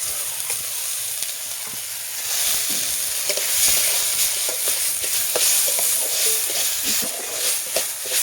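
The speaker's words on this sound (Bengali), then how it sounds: "আমি কড়াটাতে 2 ফোঁটা তেল দেবো, দিয়ে আমি ডালটা একটু ভেজে দেবো" Moong dal frying in a couple of drops of oil in a hot wok, a steady close sizzle that swells and thickens partway through, with small crackles and the scrape of stirring.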